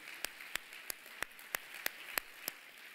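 Congregation at a church youth Bible study clapping in unison, sharp, evenly spaced claps about three per second, faint and slightly distant against a quiet room, with no talk.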